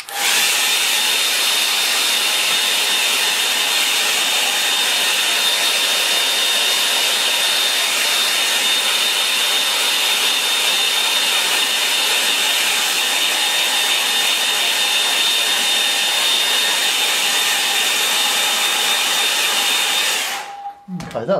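A hair dryer blows hard and steady at close range for about twenty seconds with an even, whining roar, then cuts off abruptly near the end.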